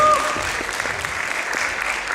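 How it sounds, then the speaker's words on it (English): An audience at a Diwali celebration show gives a big round of applause for the previous year's host, a short burst of many hands clapping close up, with a voice briefly heard over it. "A big round of applause for our last year's host, Mr. Naveen Maheshwari."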